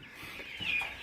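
Farm chickens cluck in a short, close burst, one hen's call rising sharply above a soft background of other fowl.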